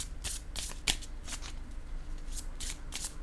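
Tarot cards being drawn and shuffled by hand, a steady run of close, papery riffles and slides with a few sharper flicks, no talk over them.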